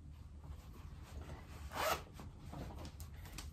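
A zipper on the hem of a pair of corduroy pants is pulled closed in one quick rising zip, close and fairly clear over a low steady room hum.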